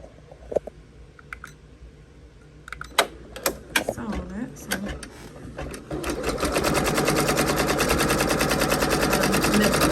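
An embroidery machine stitches fabric applique onto a top held in a hoop. Scattered clicks and a voice come first, then loud, rapid, steady mechanical stitching runs without pause to the end.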